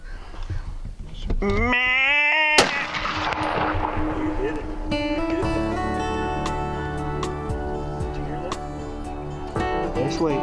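A single sharp rifle shot rings out during an antelope hunt in southeastern Oregon, a sudden loud crack followed by a long ringing decay and a steady tonal hum underneath.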